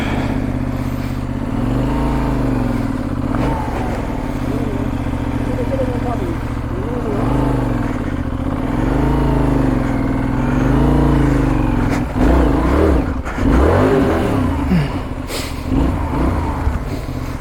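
A motorcycle engine revs repeatedly on a mountain track in Shaban Valley, Balochistan, its pitch rising and falling in loud, close surges, with people talking nearby.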